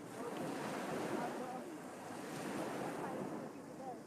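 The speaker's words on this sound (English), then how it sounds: "The sound of the waves?" Ocean waves at a beach wash in as a steady broadband surf roar with a little wind rumble. The sound stays continuous and even, with no clear voices.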